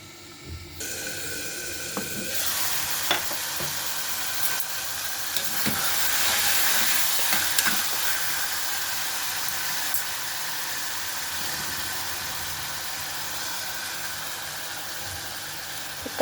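Chopped tomatoes cooking down in a pan for Telugu-style tomato dal, giving a steady, fairly close sizzle with a low hum behind it and a few faint clinks, with no talking.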